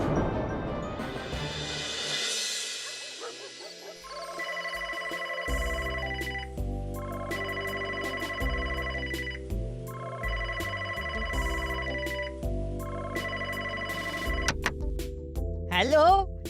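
A telephone rings in a Bangla cartoon with a repeating electronic ringtone melody in steady bursts, with other sound effects at the start and a sliding effect near the end.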